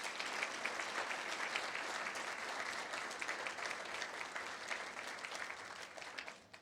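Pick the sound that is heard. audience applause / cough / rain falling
audience applause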